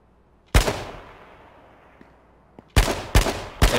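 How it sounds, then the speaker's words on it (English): Gunshots fired in every direction in the video game H1Z1: one sharp loud shot ringing out with a long fading echo, then after a pause three more rapid, forceful shots in quick succession. "let's shoot a few bullets in every direction and see if we can bait anyone to shoot at us"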